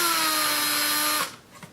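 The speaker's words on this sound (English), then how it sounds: "I just take a bigger size drill bit, the size of the screw head" A power drill with a larger bit widens a screw-head recess in a 1/7 scale F-14 jet model, whining steadily for about a second before spinning down and stopping.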